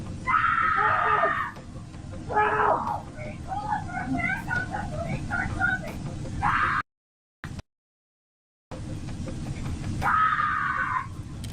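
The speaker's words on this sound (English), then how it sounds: "Neighbors were screaming 911 for police backup" Panicked screaming from neighbours during a violent struggle with a police officer, caught on bodycam. Loud, frantic shrieks and shouted voices are up close, with brief dropouts of silence partway through.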